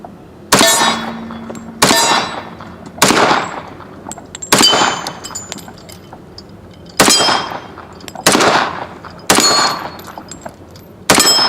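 Remington R1 1911 Government model .45 ACP pistol fired at steel targets outdoors: eight sharp, loud shots each followed by a ringing metallic clang, spaced roughly a second or two apart with no talking.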